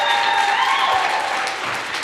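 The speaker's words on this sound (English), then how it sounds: "Can we get a round of applause?" Closing applause from an audience at the end of a live conference event, a dense wash of clapping heard fairly close and loud, with a faint tonal sound running through it and no talk.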